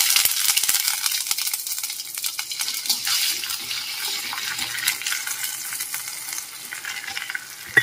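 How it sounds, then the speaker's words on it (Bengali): Ginger and cumin paste mixed with a little water stirred in hot oil after red chillies were fried, for a moong dal with bottle gourd: steady close sizzling and frying with spatula scrapes and stirring clinks throughout, no talk. "এবার আমি আদা বাটা আর জিরে বাটাটা দিয়ে একটু সামান্য জল মিশিয়ে এটাকে নাড়বো"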